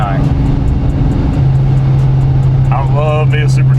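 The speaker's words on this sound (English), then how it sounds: "I love me a supercharged car, especially a manual" A supercharged manual 2017 Nissan 370Z with an 8-pound pulley drones loud and steady from inside the cabin, its engine note shifting pitch partway through, with a voice talking over it near the end.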